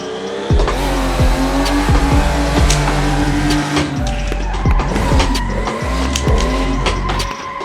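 A car drifting, its tires squealing in long repeated screeches over a loud, revving engine, with sharp skids and a spin-out toward the end; close and continuous, no talk.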